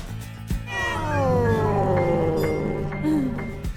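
A domestic cat gives one long, drawn-out meow that slides gradually downward in pitch, fairly loud and close, with a few faint clicks around it and no speech.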